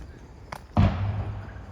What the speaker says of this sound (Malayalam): എന്താണ് പടക്കം പൊട്ടിയത്?